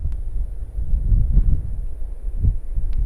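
Gusty wind buffets the microphone at a chalk cliff edge on the Seven Sisters coast at Birling Gap, a steady low rumble swelling in stronger gusts near 1.4 and 2.5 seconds, with no voices.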